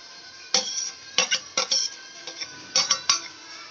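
Ingredients are poured and stirred into fried rice in a pan over low heat, with several sharp metallic clinks and scrapes of a spoon against the pan close by.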